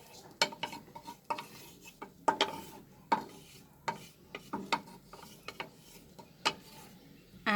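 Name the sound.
stirring dal in pot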